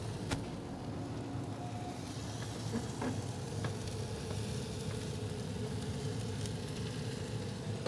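Chicken spiedini skewers stood on their sides over a hot grill, a continuous close sizzle with faint crackles and pops throughout, nobody speaking.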